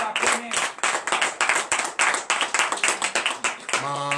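A congregation at a Saturday morning prayer service in Benin claps in a steady, quick rhythm, loud and close, with voices mixed in; the clapping gives way to a sustained sung note at the end.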